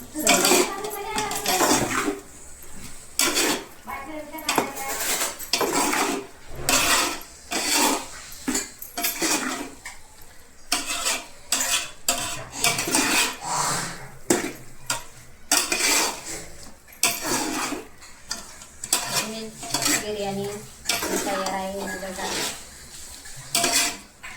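A spoon clatters and scrapes steadily against a metal pot as vegetable biryani ingredients with fried rice masala are stirred together, with repeated knocks and light sizzling while a voice talks over the mixing.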